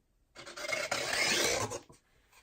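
A single rough, raspy scrape lasting over a second as a cup's bottom edge drags and skips across canvas during an acrylic paint pour, close and fairly quiet.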